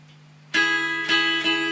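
Clean-tone electric guitar playing a song intro: a sustained chord rings out after a low hum, then is restruck twice in a steady rhythm, close and clear.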